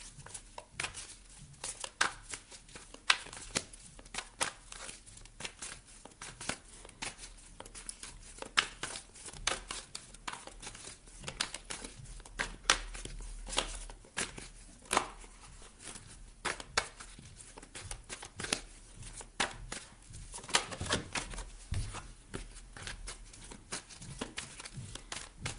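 Tarot cards being shuffled close by, a long run of soft, dense crackly riffling and tapping bursts with uneven rhythm, quiet overall, no talking.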